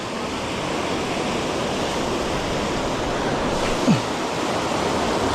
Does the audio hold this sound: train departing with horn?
no